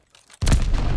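A grenade blows up in a video game with a sudden heavy boom after a moment of near quiet, then rumbles on loudly as the blast fades.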